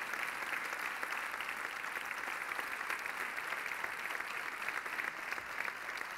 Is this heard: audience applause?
yes